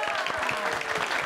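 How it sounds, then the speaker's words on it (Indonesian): A crowd applauds steadily at a company event with a team cheer, dense clapping filling the short stretch with a faint voice underneath. "Tepuk tangan. Tepuk tangan."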